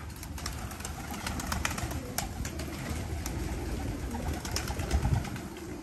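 Pigeons cooing at a bird market, with soft low coos repeated under a busy background of scattered clicks, rustling and chatter-like noise, moderately faint and continuous throughout.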